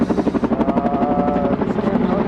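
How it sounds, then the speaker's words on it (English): A helicopter hovers about 100 feet above a neighboring house, its rotor chop steady and loud throughout, with a voice faintly talking underneath. "a helicopter hovers about 100 feet above the neighbor's house"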